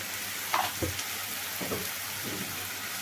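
Chili, turmeric and coriander powders fry in hot oil for a tengra fish bhuna, a constant close sizzle broken by a few sharp stirring scrapes and louder bursts.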